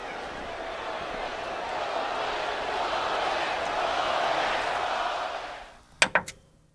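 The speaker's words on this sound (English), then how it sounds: "Just the roar of the crowd in the background" A wrestling crowd's roar in the style of a SmackDown pop, a broad sustained wash of cheering that swells and then fades out, followed by a few sharp knocks at the end.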